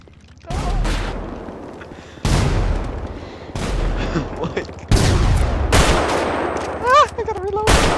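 Gunfire in a video game shooter, loud sharp shots and short bursts coming in several clusters with echoing tails, with voices talking in between and over them.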